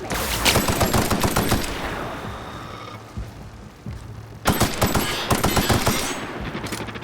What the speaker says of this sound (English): Okay, this assault rifle's really good.